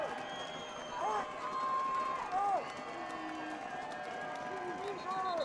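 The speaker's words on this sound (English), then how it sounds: "Crowd getting into this one." A football game crowd cheers and roars in a steady wash of noise, with whistles and shouts rising above it and a commentator talking over the top.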